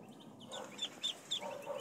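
Several short, soft chirping calls from chickens or chicks, spaced irregularly over a quiet background hiss.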